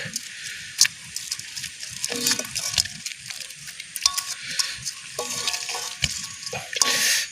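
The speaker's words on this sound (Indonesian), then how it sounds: "Tinggal diaduk-aduk." A grilled softshell turtle in yellow spice sauce is stirred, with wet scraping, clinking and soft sizzling in irregular bursts, moderately close.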